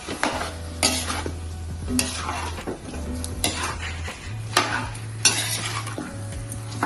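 Butter chicken is stirred in a pan with a utensil, giving repeated scraping and clinking strokes against the metal over a steady low sizzle and hum.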